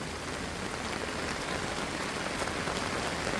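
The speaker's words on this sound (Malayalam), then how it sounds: "എല്ലായിടത്തും നല്ല മഴയാണ്" Rain pours steadily in Bali, a dense, even hiss of drops on surfaces with no pauses, fairly loud and close throughout.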